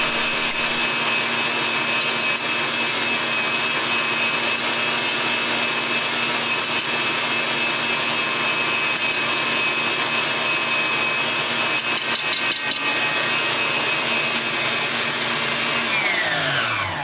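An electric mixer whisks egg whites toward soft peaks, a loud, steady motor whine that runs without pause, a slight shift in pitch near the end, and no talking.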